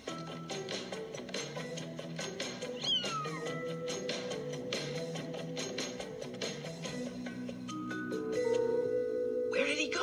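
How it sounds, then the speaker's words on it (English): A cartoon kitten meows several times over a busy musical score, with short bright cries and a few squeaky slides, moderately loud and close. "I just heard him meow."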